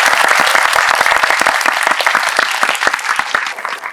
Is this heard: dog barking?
no